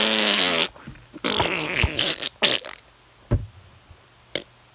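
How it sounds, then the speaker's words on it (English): A buzzing, raspy fart-like blast opens the clip, followed by sputtering noises and a few short sharp pops fading into quiet. "How about the fart?"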